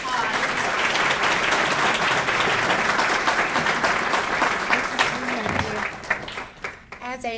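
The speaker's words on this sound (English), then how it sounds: "Let's give Teresa a round of applause." Luncheon guests at a Leadership Columbia alumni event clap for Teresa Wilson in a full, sustained round. It thins out near the end as a voice comes in.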